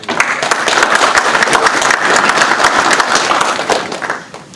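A conference audience at BSides Buffalo claps for a presenter, loud and close, with dense overlapping claps and a few sharp individual slaps that fade slightly at the end.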